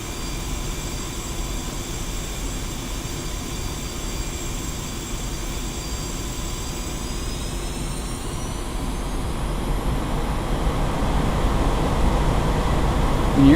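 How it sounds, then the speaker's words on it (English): An Su-25T Frogfoot's twin jet engines run at full thrust for takeoff in the DCS flight simulator, a loud continuous roar with whining tones that shift and swell steadily as the aircraft accelerates. "increase thrust of both engines to maximum"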